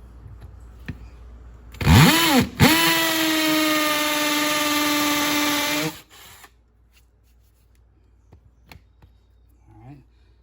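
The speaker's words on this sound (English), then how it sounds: "this is how you hammer drill one in" A hammer drill driving a screw anchor whines up to speed and runs steadily for about four seconds before cutting off, followed by a few quiet clicks and taps.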